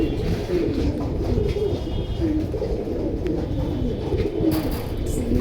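Pigeons at a bird seller's stall give repeated soft, low cooing calls, close and continuous over a dull background murmur.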